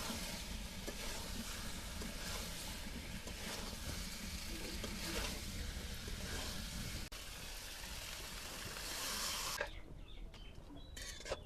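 Boiled potatoes sauté with spices in a pan for aloo dum, giving a soft continuous sizzle and light stirring, fairly faint and steady, before the sound drops away near the end.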